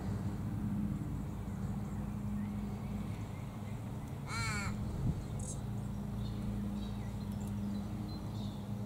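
Australian ravens feeding on silky oak nectar give a single drawn-out caw midway, moderately close, with fainter calls after it over a low steady background hum.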